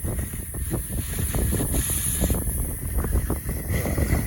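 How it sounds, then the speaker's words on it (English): Strong wind buffets the microphone in a continuous roaring rush, rising and falling in gusts with no other clear sounds, outdoors during a house wash. "That wind is serious, man, right here."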